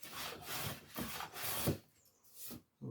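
A hand plane takes light shavings from a wooden edge, making several rasping strokes in a row, each with a soft, breathy rub, close and fairly quiet, then a short pause.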